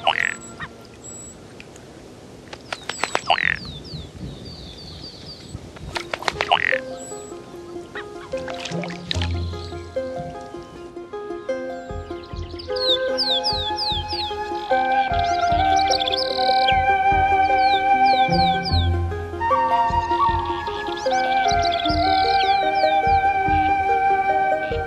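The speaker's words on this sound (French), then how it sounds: "Avec le retour des oiseaux migrateurs, flamants roses et canards sauvages qui célèbrent à leur façon la fête du renouveau." Flamingos and wild ducks calling in the Andes: scattered honks and nasal cries at first, building into a dense overlapping chorus of calls.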